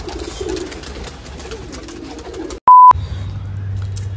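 Pigeons coo softly inside a box, their low murmuring running steadily under a constant low hum, cut midway by a short electronic beep.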